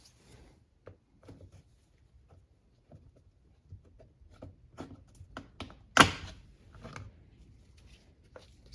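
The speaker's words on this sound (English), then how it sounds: "Now remove this trim right here." Plastic door trim is pried off a 2011-2020 Toyota Sienna front door: faint scattered clicks and taps, then one sharp snap as a clip releases, followed by a few lighter knocks.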